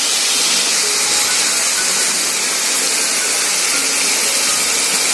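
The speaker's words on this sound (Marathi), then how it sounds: "आता ह्याच्यामध्ये आपण जिंजर गार्लिक पेस्ट घालूया थोडी" Ginger garlic paste hits a hot pan with a loud, steady, broadband sizzle that holds evenly for about five seconds, with no voices.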